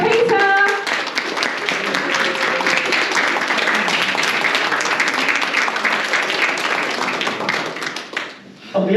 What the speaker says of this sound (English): Oh, can we have a big round of applause for Peter?